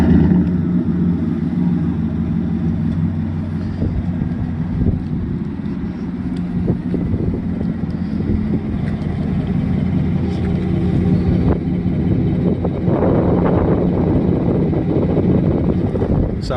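A 2019 Chevrolet Silverado 5.3 L V8 with a Borla Atak exhaust idles steadily after a warm start, a deep, loud, continuous rumble with some wind buffeting on the microphone outdoors.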